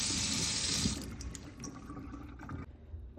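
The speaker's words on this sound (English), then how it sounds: "So just rinse off the meat properly and then we're going to add it back to the pot." Tap water runs and splashes over smoked turkey neck and pigtail in a sink for Jamaican stew peas, a close steady stream that cuts off after about a second, leaving fainter dripping and handling sounds.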